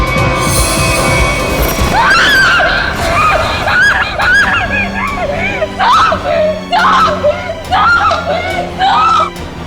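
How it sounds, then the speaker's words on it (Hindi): A woman screams loudly in a TV crime drama scene, a series of shrill, wavering cries rising and breaking off repeatedly, with other voices and commotion around her. "इतनी जोर से क्यों चिल्ला रही है?"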